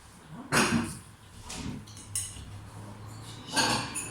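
Butter goes into a bowl with metal utensils, giving three or four sharp clattering knocks and scrapes spaced a second or so apart at close range, with a faint hum between them.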